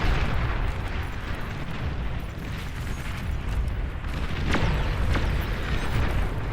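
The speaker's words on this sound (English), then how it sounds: "Not the rockets" Rockets exploding in a video game: a continuous, heavy roar of overlapping blasts and rumbling booms, loud and dense throughout, with a couple of sharper cracks near the end.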